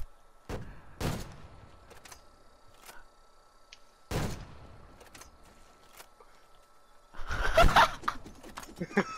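Gunfire in the Call of Duty Cold War video game rings out as a few isolated sharp shots spaced seconds apart, followed by a louder burst near the end, with game ambience between.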